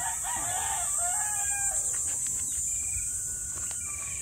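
Roosters crow and hens cluck around a hilltop poultry farm, with several overlapping calls at middling distance over a steady high insect-like hiss and faint background noise.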